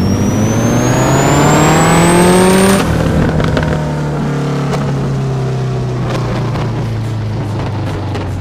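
A twin-turbo '55 Chevy race car engine roars on a dyno, pulling up to a high scream with a rising whine, then cutting and dropping into a lower rumbling note with pops and crackles; very loud and close.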